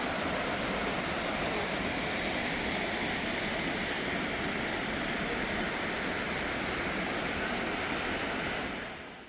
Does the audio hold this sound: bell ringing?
no